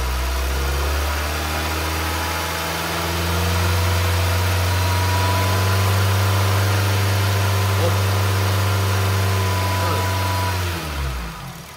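A Nissan Livina engine held at a steady raised speed of about 2000 rpm, a car with a fault that makes it jerk and hesitate on initial acceleration; a loud, constant droning hum that runs throughout and fades at the very end.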